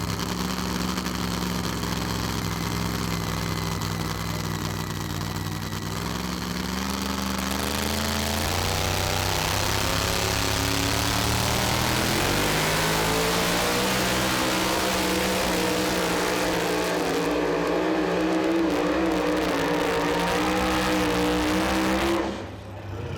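A super modified 2wd pulling truck roars loud and close at a Pro Pulling League truck and tractor pull, its engine revving and climbing steadily for over twenty seconds before cutting off.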